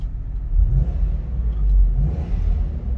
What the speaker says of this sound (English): A very, very lively V8 engine.